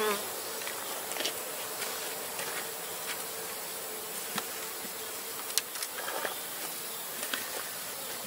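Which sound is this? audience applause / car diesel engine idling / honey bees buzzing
honey bees buzzing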